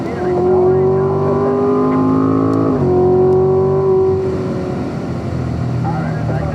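Corvette Stingray engine pulling hard on a race track, a loud steady drone that climbs in pitch, drops at a gearshift and climbs again before easing off, with someone talking over it.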